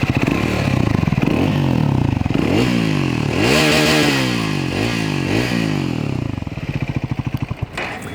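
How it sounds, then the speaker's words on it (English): A Triumph Scrambler 400X motorcycle engine revs up and down repeatedly, its exhaust rising and falling in pitch with throaty, close-up bursts, then settling into a rough idle. "The exhaust sounds good right off the bat."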